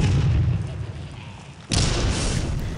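A weapon fires in the video game Clive Barker's Undying, a sudden booming blast that cuts in after a rumbling low-end sound, loud and close.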